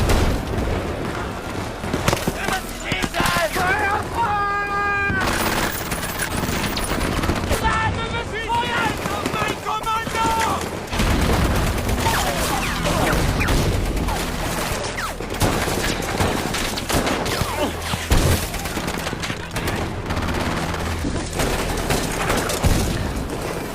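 A wartime battle against Soviet troops in the war film Generation War, with dense rifle and machine-gun fire, rapid bursts and heavy booms filling the scene continuously, and voices occasionally heard amid the fighting.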